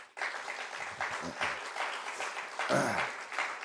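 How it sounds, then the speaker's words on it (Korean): Steady applause from a crowd at a university chapel service fills the whole stretch, with voices mixed in underneath the clapping. "여러분 먼저 박수 한번 하겠습니다"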